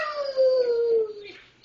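A dog gives a single drawn-out howl close by, a clear wavering tone that slowly falls in pitch before fading.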